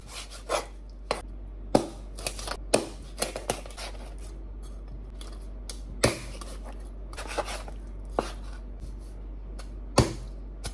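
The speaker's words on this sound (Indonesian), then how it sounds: "Ikan patin nih kita potong besar nih ya" Patin fish cut into large pieces with a knife while preparing kasam with glutinous rice: a dozen or so sharp, irregular chopping knocks close by, no voices.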